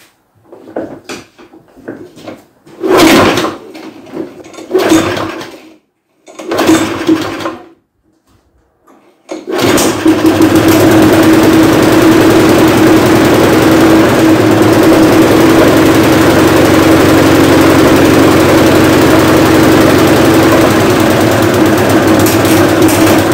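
A Briggs & Stratton engine on a chassis is cranked with a few short, loud pulls, then catches and runs steadily and loudly for the remainder, a constant near drone.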